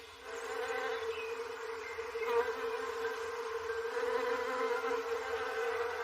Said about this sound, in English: The sound of bees is the sound of spring, as they make their way from flower to flower